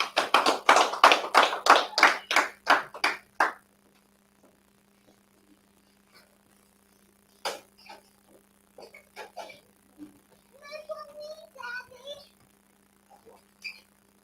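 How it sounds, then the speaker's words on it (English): A group claps hands together in a quick, even rhythm of about a dozen loud claps at a congregation gathering, then a voice speaks and scattered taps and brief claps follow. "clap with me."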